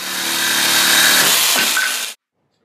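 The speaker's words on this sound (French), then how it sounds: "il ne vous reste plus qu'à couper les planches avec une scie sauteuse ou une scie à main." Reclaimed pallet boards being cut with a jigsaw or hand saw, a loud, close, continuous rasping buzz that holds for about two seconds and stops abruptly.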